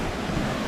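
Fast-flowing river swollen by floodwater rushes past, a steady close broadband roar with no voices.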